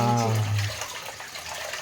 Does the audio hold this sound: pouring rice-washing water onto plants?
yes